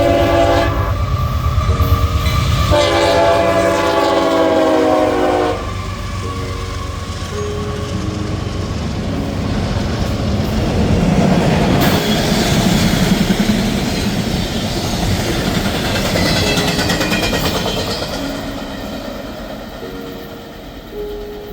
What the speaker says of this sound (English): The next train that would pass would be led by CSX AC-44 number 473.